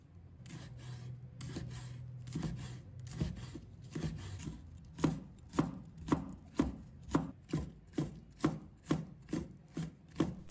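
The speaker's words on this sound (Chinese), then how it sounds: "把它切成小粒" Half a red chili being chopped into small pieces on a board: a quick run of knife strokes, then a steady series of about a dozen distinct, evenly spaced chops, close and crisp.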